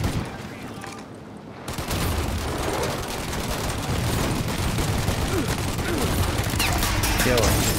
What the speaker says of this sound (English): Oh, shoot their guns.